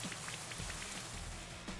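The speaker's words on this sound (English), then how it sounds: "Goodra setting up with Rain Dance" Rain from the Rain Dance move in the video game Pokemon Sword: a steady, faint patter of raindrops falling on a surface, continuous and even, with no voices.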